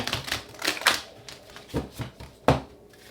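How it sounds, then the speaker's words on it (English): A deck of tarot cards being shuffled by hand, heard as a string of sharp, papery riffles and snaps at irregular intervals, close and fairly quiet, with no talking. "Let's get one final card for Virgo. Last shuffle."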